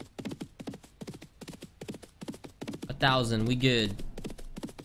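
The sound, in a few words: horse hooves clip-clopping in a video game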